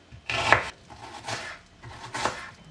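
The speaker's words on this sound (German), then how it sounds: "dazu schneidet ihr Zwiebeln in kleine Würfel" Knife chopping onions into small cubes on a board, three crisp, separate cuts spaced roughly a second apart, close and clear with no talk.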